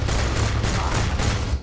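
Gunfire in Starfield, shots fired overhead: a dense, continuous rattle of rapid bursts at steady loudness for most of the stretch, cutting off near the end.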